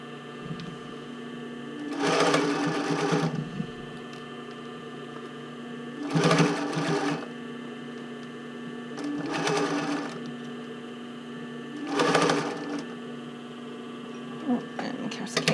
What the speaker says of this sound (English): you want to make sure that you are sewing this at that 1/4 of an inch